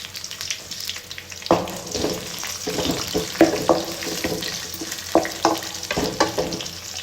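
Vegetable cubes frying in a pan, a close sizzle with repeated sharp scrapes and knocks of a spatula stirring them at an uneven pace, with no talking.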